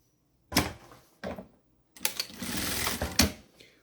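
A sewing machine stitches a zipper onto the base of a makeup bag in short bursts of rapid needle chatter, stopping and starting, then one longer run, close and clear.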